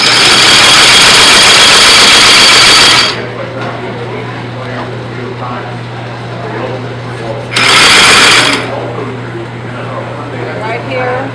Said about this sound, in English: Okay, now I sew.